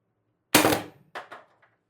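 An HPA-powered MR TR50 Torpedo airsoft gun on 800 psi air, fitted with an upgraded firing pin and bolt spring, fires one sharp, loud close shot followed by a couple of quieter mechanical clacks, with no talk.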